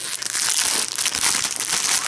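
A plastic packaging bag holding clothing is opened, giving a steady, close crinkling and rustling that runs loud and unbroken for about two seconds with no voices.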